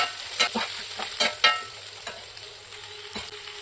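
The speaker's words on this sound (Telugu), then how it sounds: "కరివేపాకు అల్లం పేస్ట్ వేసి వేయించుకొని" Curry leaves and ginger paste fry on a low flame for a small onion curry. A steady sizzle runs under a series of sharp scraping stirs and taps of a spatula against the pan, close and uneven in rhythm.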